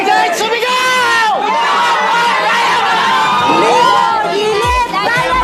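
A large crowd at a team rally cheers, whoops and shouts continuously, with a leader's amplified voice urging them on over the loud, dense roar of voices.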